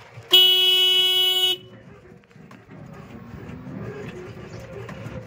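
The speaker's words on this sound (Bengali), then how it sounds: "এই এক হাতে হরেন দিচ্ছি" A single long, loud, steady honk from a small vehicle's horn, held for about a second, then giving way to softer road and engine noise with faint background sounds.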